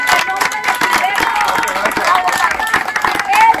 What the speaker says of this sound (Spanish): ¡Un aplauso, Pavel!